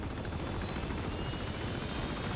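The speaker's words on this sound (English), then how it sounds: "See the helicopter?" A helicopter in the video game Uncharted 2: Among Thieves gives off a steady, loud rotor and engine roar, continuous and close, with no voices over it.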